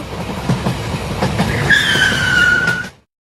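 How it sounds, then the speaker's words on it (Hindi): A large cartoon train rolls into a station, a continuous rumble with clacking wheel hits and a rising metallic brake squeal near the end, loud and close with no talk. "ये ट्रेन तो काफी बड़ी है।"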